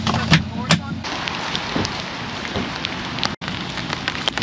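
Steady rain pours onto a campsite as a storm comes in. Dense patter and drips fill the whole clip, with a few louder knocks and one sharp dropout near the end.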